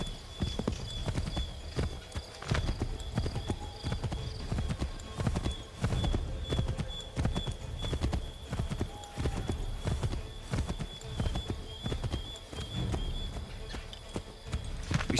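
Horses trot in the video game Assassin's Creed III Remastered, a dense, steady clatter of hoofbeats throughout with a faint whinny and quiet background ambience.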